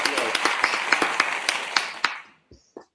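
Audience applause from a crowd at a talk on global jobs for African talent, a dense burst of clapping for about two seconds that quickly dies away, with a couple of faint trailing claps afterward.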